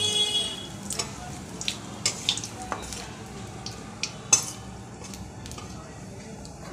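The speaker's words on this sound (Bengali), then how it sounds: "কালো জিরে ফোড়ন দিয়ে দিলাম" Nigella seeds and dried red chillies tempering in hot oil, a soft crackle and sizzle punctuated by scattered pops and spoon taps against the pan, fairly quiet and nearby, with faint talk in the background.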